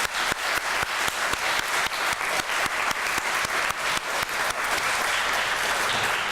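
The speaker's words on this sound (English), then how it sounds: "How about a round of applause for all those folks who helped today?" Audience applause at a US naturalization ceremony, dense steady clapping from a large crowd that holds at an even level throughout, with no voices on top.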